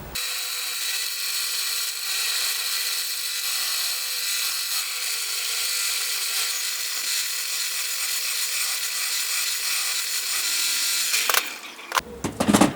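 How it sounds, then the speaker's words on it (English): Power sander grinding hard timber for a guitar neck, a loud steady abrasive whine running unbroken for about eleven seconds before winding down into a few scattered knocks. "I might just put it on the sander here and see if I can just sand it down to the line anyway"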